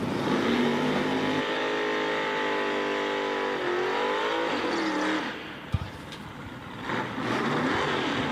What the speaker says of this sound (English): Stick shift Mustangs are in fact loud.